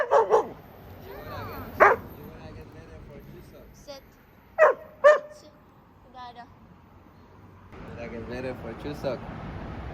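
Small dog barking and yipping in several sharp bursts, close and loud, with whimpers between them and people talking around it.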